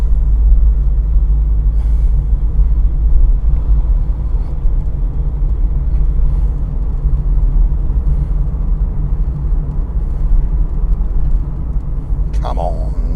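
Citroën creeping slowly out of a village at the speed limit, heard from inside as a steady low engine and road rumble, continuous and even, with a brief clatter near the end.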